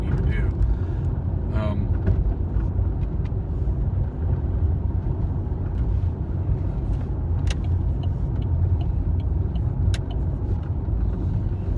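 Road traffic near a freeway on a busy multi-lane road, heard as a continuous low rumble of engines and tyres with occasional brief higher sounds of passing vehicles, steady throughout.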